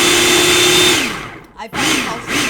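A kitchen blender pulses on tabbouleh ingredients for a plant-based salad, running loud and steady for about a second, spinning down briefly, then surging again close by.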